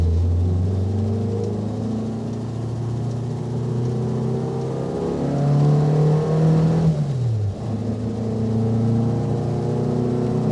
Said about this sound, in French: Même si le moteur qui crie derrière, il essaye de nous faire passer des petites sensations un peu sportives.